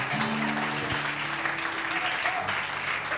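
Congregation applauding during a church service, steady clapping with sustained organ or keyboard tones sounding underneath, fairly loud and continuous for a few seconds.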